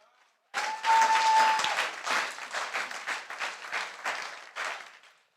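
A church congregation breaks into loud sustained applause, dense clapping that swells quickly then rolls on in uneven waves before fading out.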